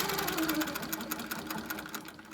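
A sewing machine stitches straight lines across a wholecloth quilt along a ruler, a steady fast rhythmic whir with needle pulses, close and continuous with no talking.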